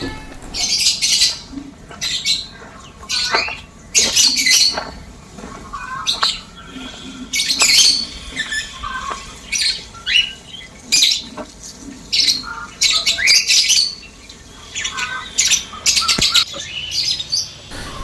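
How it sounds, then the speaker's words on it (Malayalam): Busy poultry-yard calls from chickens, ducks and pigeons, with repeated squawks, clucks and chirps in irregular bursts, close and fairly loud. "പിന്നെ കോഴി താറാവ്"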